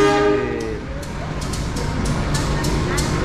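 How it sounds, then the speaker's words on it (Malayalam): A train rumbles into a station in Indonesia with a horn blast at the start, followed by rhythmic clacking of wheels over rail joints and a steady low roar. "ഓക്കെ ട്രെയിൻ വന്നുകൊണ്ടിരിക്കുന്നു"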